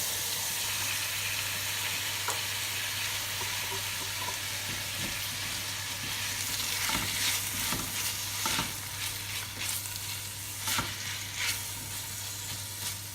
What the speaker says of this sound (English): Now I'm going to add a 425 gram can of tuna flakes.